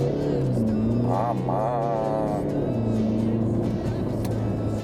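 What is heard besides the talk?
car accelerating at full throttle from standstill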